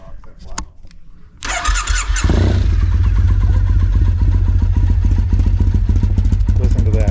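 A Triumph motorcycle engine is cranked over and fires, settling into a loud, steady, throbbing idle through what appear to be British Standard exhaust pipes. A brief voice comes just before the start.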